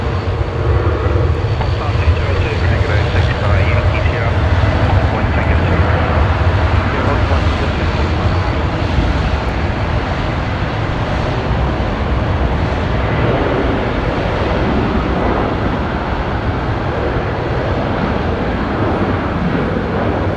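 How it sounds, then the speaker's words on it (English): Boeing 737-800 airliner rolling for takeoff at Brisbane Airport at night, a steady broad jet roar that holds for about twenty seconds at a distance. "Right, Velocity 352 is now rolling, heading to Melbourne tonight."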